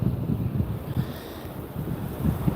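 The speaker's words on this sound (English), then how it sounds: "it's kind of windy" Gusty wind buffets the microphone on a Florida beach, a low rumbling roar that swells and fades continuously with faint surf underneath.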